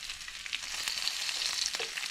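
Bacon sizzles and crackles in hot grease in a pan, a steady close hiss with scattered pops and no talking.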